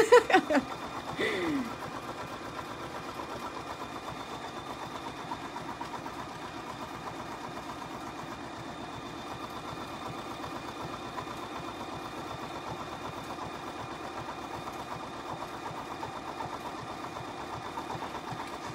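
An embroidery sewing machine stitches an in-the-hoop zipper clutch with a steady, soft whirring hum and fine rhythmic needle ticking, starting with a few clunks and running on evenly.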